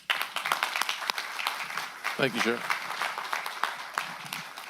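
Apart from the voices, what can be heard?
audience applause for honored sheriff's department staff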